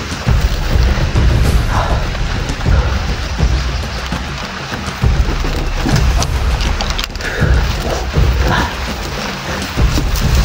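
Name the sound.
heavy rain with thunder in a forest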